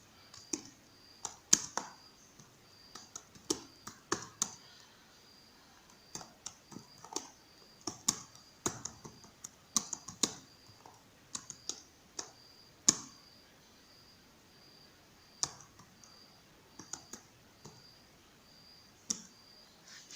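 Close, irregular clacks of keys on a computer keyboard, tapped in short bursts with brief pauses between them, crisp and fairly quiet with no voice over them.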